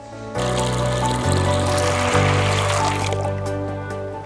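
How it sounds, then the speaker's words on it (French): Cold water poured from close by over soybeans set to soak, a continuous full stream with a rising tonal fill beneath the splashing, no voices. "Et on va rajouter de l'eau bien fraîche."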